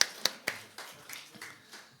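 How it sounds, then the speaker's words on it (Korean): A small church audience at a youth worship service gives a handful of sparse claps, roughly eight crisp, evenly spaced hits that quickly fade in a quiet room. "박수 한번 쳐주시죠"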